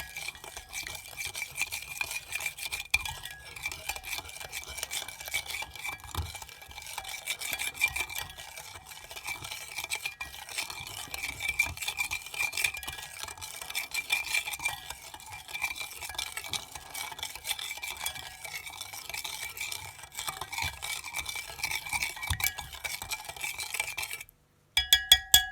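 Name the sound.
stirring minced garlic and hoisin marinade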